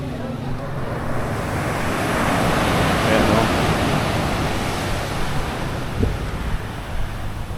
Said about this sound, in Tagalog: malalaki ang alon ngayon